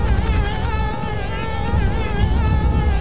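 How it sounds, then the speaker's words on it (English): Bees in the video game Conker's Bad Fur Day give a loud, close, continuous buzzing drone that wavers slightly in pitch and holds steady throughout. "Some bees up here, are there?"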